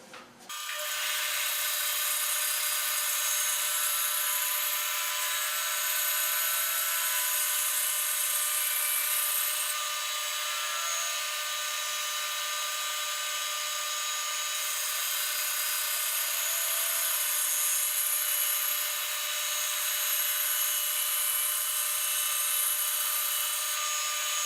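A saw fitted with an 8 teeth per inch blade cuts through thick wood discs in one continuous, loud, high-pitched buzzing run lasting over twenty seconds, with no pauses or voices.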